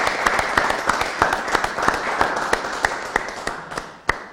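A worldwide audience gives a closing round of applause for Aaron Nace of Phlearn, a dense wash of clapping with a few sharper claps standing out, fairly close and steady before tapering off.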